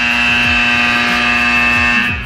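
Titan II missile rocket engines igniting, heard as a loud, steady, continuous roar with a strong tonal hum that holds unbroken throughout.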